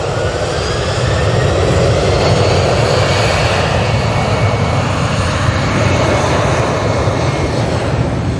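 A Virgin Atlantic jet airliner departs, its engines giving a loud, continuous roar that holds steady and close for the full eight seconds.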